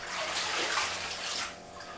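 Water sloshes and splashes as butcher's paper is wetted in aquarium tank water for a reef relocation, a continuous close, soft splashing lasting about two seconds.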